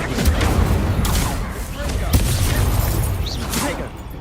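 Incendio fire spells cast repeatedly in Hogwarts Legacy combat, bursting in dense, overlapping blasts and thuds amid a steady roar of battle effects, with a spoken voice running throughout.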